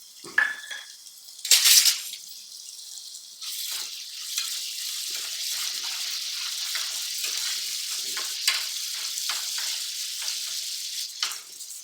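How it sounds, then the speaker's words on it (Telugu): Ginger-garlic paste sizzles loudly in hot oil in a pan, with a burst of spattering and utensil clinks near the start, then a steady, close frying hiss with light scraping for the rest. "అల్లం వెల్లుల్లి పేస్ట్ వేసుకొని వేపుకోవాలి"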